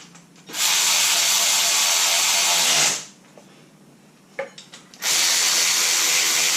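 A power tool drives bolts into a low-mount alternator bracket on an LS swap engine in two loud sustained whirring bursts, with a quieter gap of small clicks and clanks between them.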